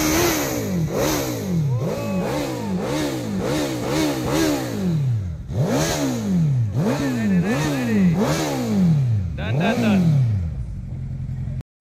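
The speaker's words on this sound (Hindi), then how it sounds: "एबे हायबुसा जनरेशन 2 रो एग्जॉस्ट साउंड सुनिया" A second-generation Suzuki Hayabusa superbike revs through its exhaust in a quick, loud series of about a dozen rising and falling throttle blips, heard up close with a short pause partway through.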